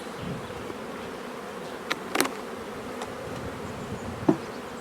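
Honey bees hum steadily in an open beehive while brood frames are lifted to split off a swarm, a soft continuous drone broken by a few sharp knocks and clicks of hive handling.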